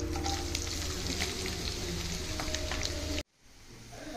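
Onions frying for chicken curry with whole spices sizzle loudly and evenly in a pan, then the sound cuts off abruptly and a quieter sizzle returns.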